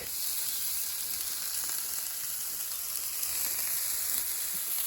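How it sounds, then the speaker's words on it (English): Bacon sizzles and spits steadily in a Ridgemonkey griddle pan, a dense, continuous hiss of frying fat that stays even and close throughout with no talk. "bacon goes on last because bacon takes the least amount of time to cook"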